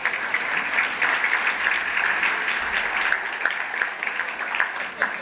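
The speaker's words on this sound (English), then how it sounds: "Please give them a round of applause." Sustained applause from an awards gala audience, a dense, even wash of clapping hands from a crowd that holds steady throughout without voices standing out.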